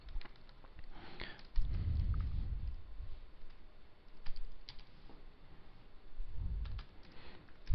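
Keys clatter on a computer keyboard in irregular bursts, with occasional heavier presses of the enter key, close and fairly quiet against a soft room hiss.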